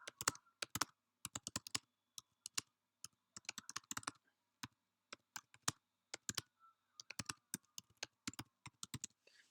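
Irregular keystrokes on a computer keyboard, close and fairly quiet, tap out in quick clusters separated by short pauses, with no talk over them.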